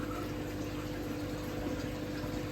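Tap water pours from a faucet into a tilapia fish tank during a water change, a steady, even rush of filling water that is fairly quiet and continuous, with no talking.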